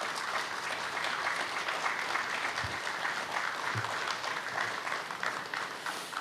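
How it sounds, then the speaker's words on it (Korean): A large audience at Korea's March 1st Independence Movement Day ceremony gives steady, full applause after a choir and singers perform, an even roar of clapping throughout with a few low thumps. "큰 박수 부탁드립니다"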